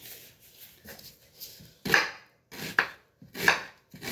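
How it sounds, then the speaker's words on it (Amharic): Knife chopping onions on a board at home, several sharp, close chops in an irregular rhythm with quieter scraping and handling between them. "ሽንኩርቴን መክተፍ ማለት ነው"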